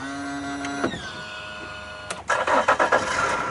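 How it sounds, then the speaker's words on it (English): A Yamaha outboard boat motor starting: a rising starter whine, then the engine catches and runs with loud, uneven revving bursts, close by and with no talk. "Let's make sure this motor still works."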